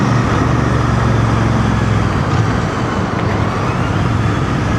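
A Royal Enfield Bear 650 twin-cylinder motorcycle engine drones steadily and loudly in a continuous low rumble, with road and wind noise mixed in throughout.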